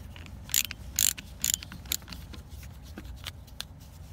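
Small Torx security screw turned out of a Honda SRS component with a screwdriver, a few sharp ratcheting clicks and scrapes up close, quiet, no voices.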